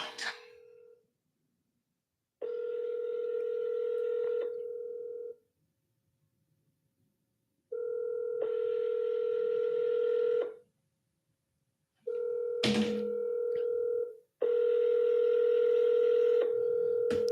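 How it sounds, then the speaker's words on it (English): A telephone call to a cash buyer rings out unanswered: a short dialing burst, then four long steady ring tones separated by silent gaps, clear and close through the line. "Kept ringing."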